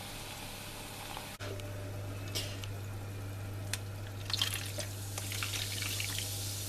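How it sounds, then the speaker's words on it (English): Two litres of cola pours into a pot holding a gammon joint, a steady close liquid gush with fizzing and splashy bubbling that grows brighter toward the end, beneath a constant low hum. "2 litres of cola to go in with the gammon."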